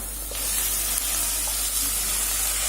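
Chilies hit a hot pan of fenugreek greens with turmeric, giving a steady, close sizzle and hiss that runs evenly throughout with no talking.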